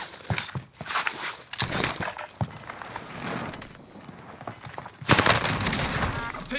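Gunfire from a Call of Duty match on Rebirth Island comes in rapid bursts and scattered cracks, loud and close, with busy in-game noise between the volleys.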